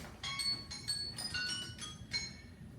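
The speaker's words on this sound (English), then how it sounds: "And there it is. There's the bell." A bell on a workout timer rings in a fast series of bright, clinking metallic strikes, about six hits over a few seconds above a soft background hiss, fairly faint and with no talking.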